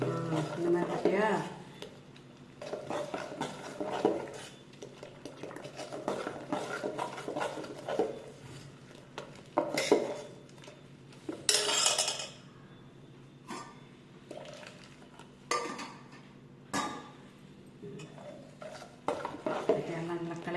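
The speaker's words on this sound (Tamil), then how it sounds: "எல்லாம் நல்லா கலக்கிட்டேன்." A spoon stirs urad dal porridge (ganji) in a metal pot at home, with scraping and clinking strokes in irregular bursts while someone talks throughout.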